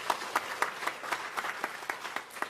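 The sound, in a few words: audience applause at an ordination ceremony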